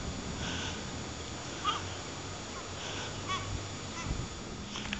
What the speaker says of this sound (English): Yeah, some very noisy seagulls here.